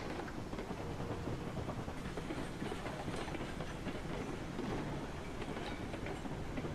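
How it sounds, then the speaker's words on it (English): Steam locomotive in the Railroads Online video game, a dense continuous rumbling roar with clattering wheel noise, loud and steady throughout with no voices. "we are only able to do about 20 miles an hour in this locomotive."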